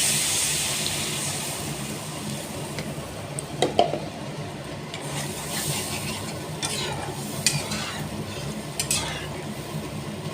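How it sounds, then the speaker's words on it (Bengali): Fish curry gravy with winter vegetables bubbling in a pan on the stove, a steady soft simmering hiss with faint sizzle and a few brief utensil clinks, close and fairly quiet with no talking. "ঝোলটা ফুটে গেছে"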